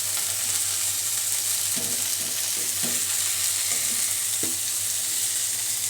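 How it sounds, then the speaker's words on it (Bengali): Fish curry with stem greens and spices being stirred in a hot pan, a constant loud sizzle with a few soft scraping stirs of the spoon, no voices. "নাড়াচাড়া করে নেব।"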